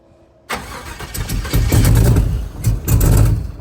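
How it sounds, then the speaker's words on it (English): A 454 cubic-inch big block V8 cranks and catches, then runs rough with repeated throttle blips and revs, loud and close, surging and dipping with no talk over it. "Tap the throttle. Yeah, let go. Tap it. Okay, you got to keep it running. It's a big block."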